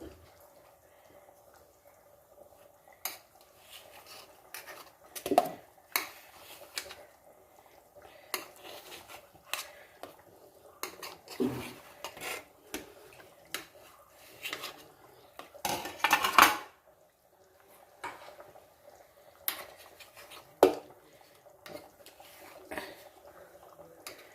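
Steamed idli being lifted from the steamer into a casserole, sparse metallic clinks and scrapes of spoons and pans against a quiet kitchen, with a few louder clatters.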